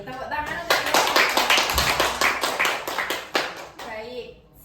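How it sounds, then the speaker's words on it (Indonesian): A school class claps for their teacher in a quick, sharp, fairly rhythmic burst of hand claps, close and lively, with children's voices mixed in before the clapping trails off. "tepuk tangan untuk Ibu"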